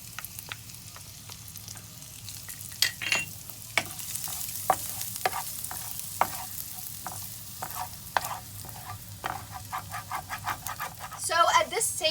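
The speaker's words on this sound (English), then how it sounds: "we're going to add the garlic and we're going to saute it for a little bit" Garlic sautés in a pan for chicken Provençale, giving a soft, continuous sizzle with scattered scrapes and clicks of a utensil stirring, fairly quiet, growing busier near the end.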